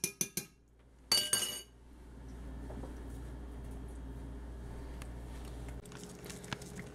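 A utensil clinks sharply a few times against a pan as tomatoes and scallions are stirred into a reduced cream sauce, then a low, steady simmering hum and faint bubbling carry on quietly.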